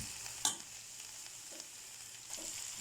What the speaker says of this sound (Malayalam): ഈ വെണ്ടക്ക നന്നായിട്ടൊന്ന് ഫ്രൈ ചെയ്തെടുക്കാം